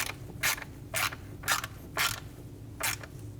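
Ratchet wrench tightening a screw on a Volkswagen Passat intake manifold, five short clicking bursts at a steady rhythm, close and clear over a faint low hum.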